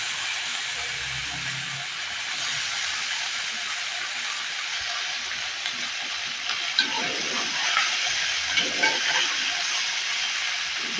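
Okra (bhindi) frying in a pan, a continuous hissing sizzle, close and fairly loud, with faint clatter of stirring toward the end.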